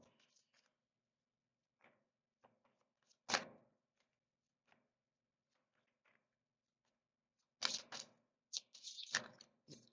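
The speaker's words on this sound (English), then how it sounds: "I'm just going to either wait for one to jump out or when they tell me to stop shuffling." A deck of oracle cards is shuffled in quiet bursts, soft riffling and tapping near the end with brief scattered handling noises in between, close and faint.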